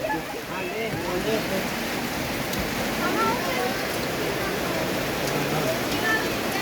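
Constant rushing rain fills the scene at moderate level, a dense even hiss with scattered patters and no letup.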